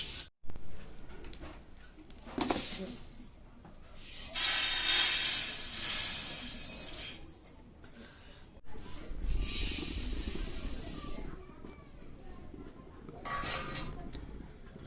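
Coriander seeds roasting in a pan for masala powder give off an uneven hiss and sizzle with scraping stirs, swelling and fading across the clip at moderate loudness, with no talk.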